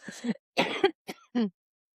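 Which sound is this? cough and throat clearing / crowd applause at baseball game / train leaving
cough and throat clearing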